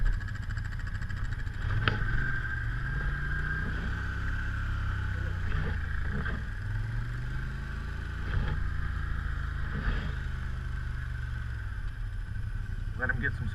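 An ATV on a snowy winter trail in Cape Breton revs and labors close by, its engine pitch rising and falling in repeated surges, with people talking over it.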